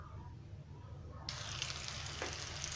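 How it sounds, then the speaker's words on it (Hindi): Gola kabab balls frying in oil in a pan make a steady, soft sizzle that grows brighter and fuller partway through, a continuous crackle with no voices. "ऐं मां इहे बॉल ठाहींदी, गोला कबाब ठाहींदी, हिन में फ्राई कंदी वेंदसि।"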